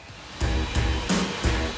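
A Henry vacuum cleaner runs in a vacuum testing facility, a loud steady motor whine broken by several rhythmic whooshing surges as the machine is spun by its cable.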